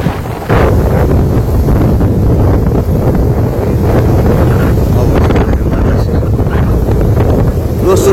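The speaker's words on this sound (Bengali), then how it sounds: "দেখেন কিরকম অবস্থা বাতাসে বাহিরে, মনে হইতেছে এক প্রকার ঝড়।" Strong stormy wind outdoors in a village on a rainy day buffets the microphone with a loud, continuous roar that barely lets up for the whole stretch.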